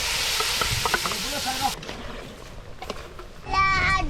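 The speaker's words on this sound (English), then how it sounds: "then you put garlic and onions, and you put some ramen noodles, and I think they all mix it together" Garlic, onions and ramen noodles sizzle and get stirred in a pan, with frying crackle and clatter throughout while people talk over it.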